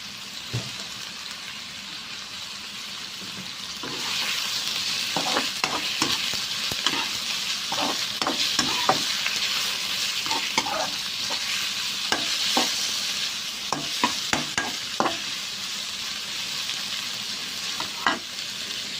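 Pork stir-fried in a pan for a Thai palo stew sizzles steadily while a spatula scrapes and clacks against the pan in irregular bursts, close and moderately loud.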